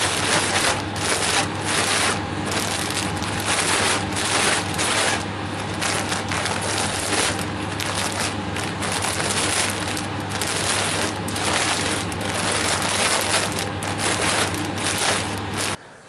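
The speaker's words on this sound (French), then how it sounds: "je dois mélanger au mieux les grains et la sciure" Grain and sawdust being mixed by hand for mushroom spawn bags, a steady, close rustling and rubbing of loose wood particles and kernels that runs without pause the whole time, with no voices.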